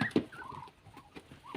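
Small birds quacking and chattering in short overlapping calls, fairly close, with a few sharper squawks mixed in.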